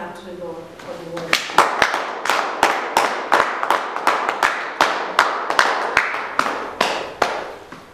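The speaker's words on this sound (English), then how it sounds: "Let us give a clap to the Lord for the word." A church congregation claps together in a steady, rhythmic beat of sharp hand claps, loud and close, after a short stretch of speech at the start.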